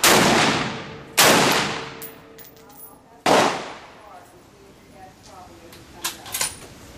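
Three loud, close SCAR rifle shots boom out at uneven intervals, each with a sharp crack and a decaying echo, followed by quieter rustling and small clicks on an outdoor shooting range.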